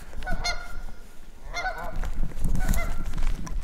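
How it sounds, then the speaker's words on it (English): Geese honking outdoors on water in Montana alongside ducks, with repeated honks in two or three bursts over steady wind and ambient noise. "Battle of the goose and duck."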